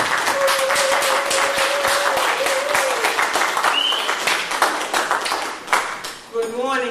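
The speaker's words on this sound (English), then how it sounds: "Can you bring up with a round of applause?" A dense round of audience applause greets a guest speaker at a conference, continuous crowd clapping for several seconds with a tonal cue sounding over it, tapering toward the end.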